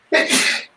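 One sharp, close sneeze bursts out loudly and breathily, then trails off quickly into quiet.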